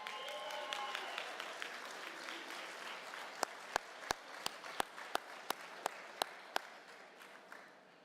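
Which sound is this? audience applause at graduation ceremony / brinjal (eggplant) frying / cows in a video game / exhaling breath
audience applause at graduation ceremony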